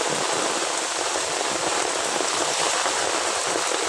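Heavy rain pours steadily on trees and ground in a coastal mangrove area, a dense, even hiss filling the whole clip, close and loud with no voices.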